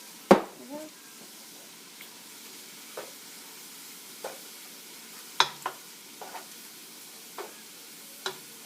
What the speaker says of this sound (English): let's take the spice mixture and mix it in